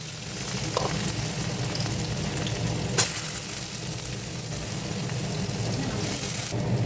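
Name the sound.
potatoes and carrots frying in oil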